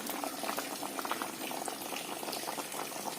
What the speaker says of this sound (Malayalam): നമ്മുടെ അയില പുളിങ്കറി ഇവിടെ തിളച്ച് വെന്ത് റെഡിയായി വന്നിട്ടുണ്ട്